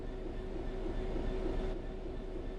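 Diesel train in Train Sim World 4 braking to a stop, a steady low rumble of the moving train with a constant tonal hum, continuous and fairly loud without talk.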